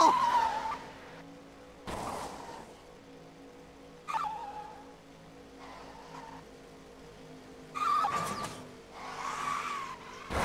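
Cars in the Cars video game skidding, several sharp tire-squeal bursts scattered over a low engine hum, moderately loud and spaced a couple of seconds apart.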